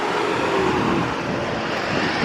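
A shuttle vehicle rolls past on a road, a steady broad whoosh of tires and engine close by with no break, alone without talk.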